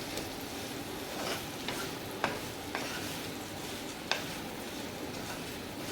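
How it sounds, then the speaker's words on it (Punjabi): Okra tossed with turmeric and spices in a frying pan gives a steady sizzle, broken by a few sharp scrapes and clicks of a spoon stirring against the pan, up close. "ਹੁਣ ਆਪਾਂ ਚੰਗੀ ਤਰ੍ਹਾਂ ਹਿਲਾ ਦਿੰਨੇ ਆ ਜਿਹੜੇ ਕਿ ਆਪਣੇ ਮਸਾਲੇ ਆ ਮਸਾਲੇ ਸਾਰੇ ਆਪਣੇ ਭਿੰਡੀ ਦੇ ਵਿੱਚ ਮਿਕਸ ਹੋ ਜਾਣਗੇ"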